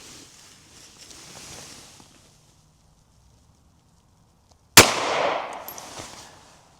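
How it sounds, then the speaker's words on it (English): A single .380 +P Grizzly 90-grain round is fired into a gel block. After a few quiet seconds comes one sharp, loud report that rings out and decays slowly. "we're going to shoot this 90 grain plus P Grizzly ammunition into our gel setup"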